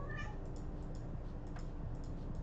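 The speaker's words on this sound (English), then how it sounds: "I have a cat meowing like crazy." A house cat meows faintly near the start, a short rising call under a steady, noisy background hum that continues throughout.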